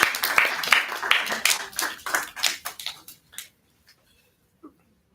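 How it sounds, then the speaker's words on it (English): A small group claps for a few seconds at an essay awards ceremony in St. Lucia, a brisk patter of hands that thins out and stops, leaving near silence. "Please round of applause."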